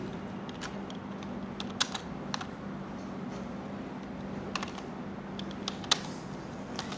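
Soft, irregular keystrokes on a computer keyboard during flyer design work in Adobe Illustrator, scattered clicks over a steady low room hum, fairly close and quiet.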